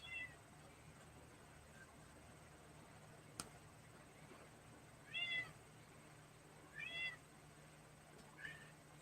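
A house cat meows indoors, three short, faint cries spaced a couple of seconds apart over a low steady hum, with a single sharp tick earlier.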